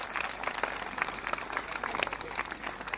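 Applause for a respected village schoolteacher at a school gathering in Kothale, with many hands clapping in a fairly quiet, steady patter heard from some distance.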